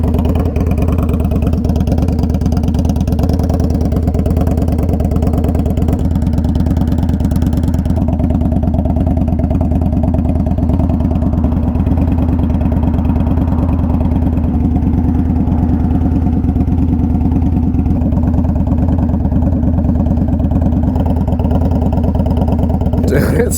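An Indian Scout Bobber motorcycle fitted with a stainless exhaust idles nearby, producing a loud, steady, deep rumble that holds constant throughout with only small shifts in tone.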